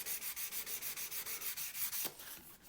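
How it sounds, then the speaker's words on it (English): A Telecaster guitar body is hand-sanded where the binding meets the lacquer, in quick, even back-and-forth strokes about five per second. The close rubbing rasp stops abruptly near the end, leaving a quieter scrape. "I'm just going to rub down on the transition between the binding and the lacquer"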